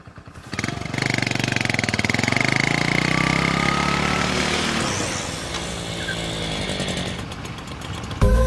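A motorbike engine runs loud and close, a steady buzzing drone that swells and holds before tapering slightly near the end.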